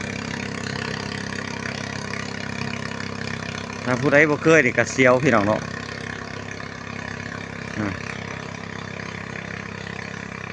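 A boat engine drones steadily and evenly on a river crossing, close and continuous, while someone talks briefly over it partway through.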